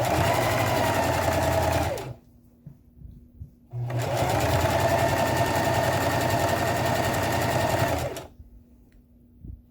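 A sewing machine stitches fabric pieces for a handbag, running in two steady, close bursts of whirring with a short pause between them.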